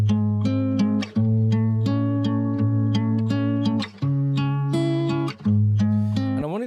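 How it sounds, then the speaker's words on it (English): Acoustic guitar intro of an indie-rock song with an old-time, slightly fairground feel, played as a bright, bouncy pattern of plucked chords and bass notes in a steady rhythm, close and alone with no voices. "I've got an acoustic guitar, but it only appears here at the beginning."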